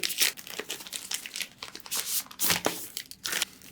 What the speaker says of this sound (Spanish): Vamos entonces a desempacar este.